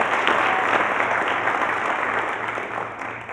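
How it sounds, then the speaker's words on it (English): A room full of people at the Colorado Opioid Abatement conference gives a final round of applause during the Attorney General's keynote. The clapping is dense and steady throughout, then tapers slightly toward the end, with no talk over it. "Just one last final round of applause."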